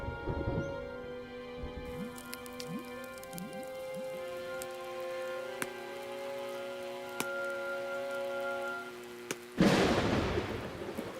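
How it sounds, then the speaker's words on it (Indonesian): Cartoon thunderstorm with steady rain pattering across a surface, scattered sharp crackles, and a loud burst of thunder or heavy downpour swelling near the end. "Badai akan datang."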